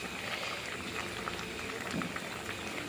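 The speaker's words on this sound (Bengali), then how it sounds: "এবারে ঝোলটা ফুটে গেছে" Fish curry gravy with bitter gourd and potato bubbling at a steady boil in a pot, a close, continuous soft burble with faint popping, no talk.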